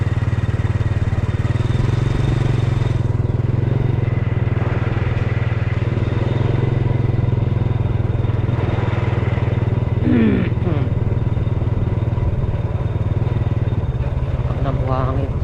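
A motorcycle engine hums steadily throughout, a continuous low drone of riding with wind noise, and a brief faint voice near the end.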